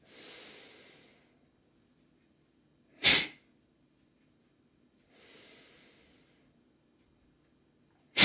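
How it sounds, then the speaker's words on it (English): Strong, forceful breaths during a Noguchi Seitai body exercise: drawn-out breathy exhalations alternate with two sharp, loud snort-like bursts, close up with quiet pauses between and no talk. "Strong breathing like that."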